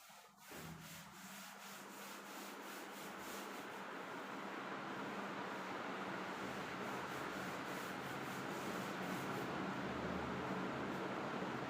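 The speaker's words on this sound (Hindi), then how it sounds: "मैं थोड़ा सा यहाँ से कुछ पार्ट रब कर देता हूँ" Erasing part of a written board: continuous dry rubbing and scrubbing that grows slightly louder and steadier over about eleven seconds, close and alone.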